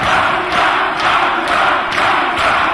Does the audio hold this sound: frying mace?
no